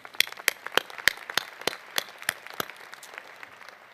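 Scattered hand claps from a small commencement audience at the University of Idaho 2017 winter ceremony, a steady loose patter of individual claps, fairly close and moderately loud, with no talking.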